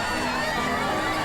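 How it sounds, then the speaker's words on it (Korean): Crowd of fans cheering and screaming as a van door opens to let idol group members out in an audio drama scene, a dense, steady roar of many voices filling the whole moment without letup. "밴의 문이 열리자 팬들의 함성이 더욱 커진다"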